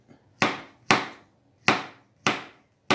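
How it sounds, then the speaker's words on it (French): Knife chopping ripe Guadeloupe and Martinique bananas into rounds on a board, five sharp, evenly spaced cuts landing close and clear with brief decays and no talking. "je découpe en rondelles mes bananes de Guadeloupe, Martinique"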